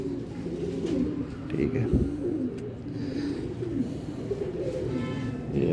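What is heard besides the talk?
golden pigeon cooing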